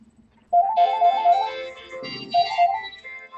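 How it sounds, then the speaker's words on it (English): Phone ringtone playing in a melodic electronic pattern, loud and close, two bursts of repeating tones with a brief pause between, over faint background noise. "Sorry, the phone."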